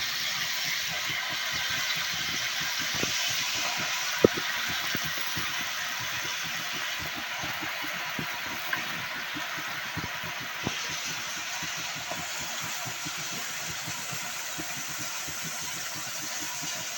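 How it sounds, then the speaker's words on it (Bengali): Malabar spinach (pui shak) dropped into hot oil tempered with dried red chili and turmeric, sizzling in a steady, dense hiss with fine crackles that continues unbroken throughout. "তো এখন আমি এই পুঁই শাকগুলো এর মধ্যে দিয়ে দিলাম।"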